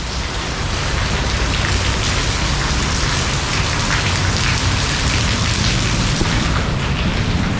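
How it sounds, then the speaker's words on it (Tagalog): Heavy rain pours steadily outdoors at a lechon eatery in Magalang, Pampanga, a loud, dense, continuous patter with no voices over it. "Umulan lang kasi."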